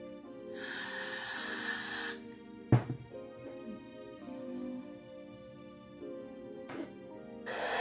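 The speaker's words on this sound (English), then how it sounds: "I'm going to spray it in place." Hairspray hisses from an aerosol can in two bursts, a long spray and a shorter one, with a sharp tap between them over a faint musical background, setting a glueless wig in place.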